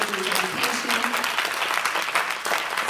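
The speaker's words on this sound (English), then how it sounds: "I want you all to give yourselves a round of applause." Audience applauding at a youth council swearing-in ceremony, a close burst of sustained clapping with some voices mixed in, steady for the whole stretch.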